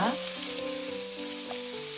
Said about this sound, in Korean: 감자를 살살 볶아주세요.